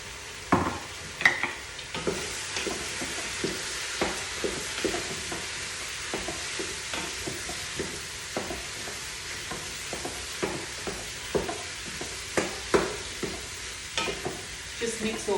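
A spoon stirs vegetables frying in a pan for chicken curry, repeated close scraping strokes over a steady sizzle that continues throughout.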